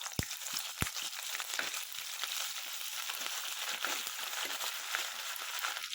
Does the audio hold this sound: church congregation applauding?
no